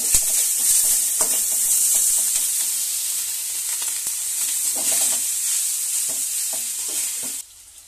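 Rice stir-fried in hot ghee with sugar sizzles loudly and steadily up close as a spatula scrapes and turns it in the pan, before the hiss drops away abruptly near the end.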